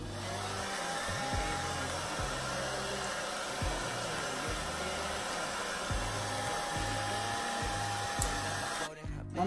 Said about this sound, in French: En tout cas, j'ai un séchoir.